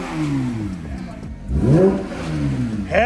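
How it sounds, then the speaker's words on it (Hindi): A Porsche 911 GT3 engine is blipped through several revs just after a long cold start, each rise and fall loud and close, with a held on the soft limiter near the end. "चलो भाई now that the cold start is over let's rev it."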